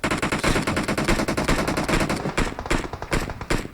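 Automatic rifle fire from the PUBG Mobile shooter game rattles in loud rapid bursts, sustained rounds that break into shorter volleys toward the end, close and dominant.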